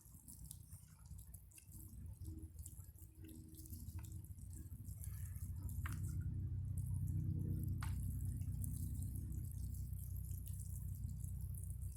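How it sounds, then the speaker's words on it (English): Water poured onto soil around freshly planted sweet potato slips, a soft steady trickle and drip that swells louder midway through and runs continuously without talk. "just gonna put a little water there for them."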